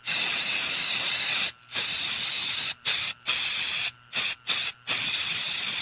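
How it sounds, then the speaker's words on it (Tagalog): Bursts of Baygon insecticide aerosol spray hissing loudly, several long sprays broken by short pauses, then a quick run of brief puffs before a final sustained spray. "Human ako i-spray direkta sa lamok, langaw ug ukok."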